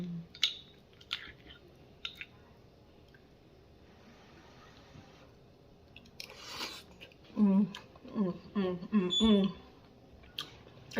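Chewing a bite of creamy shrimp and grits with green onions, soft wet squishy mouth sounds up close, with a few faint clicks and a voice murmuring in between.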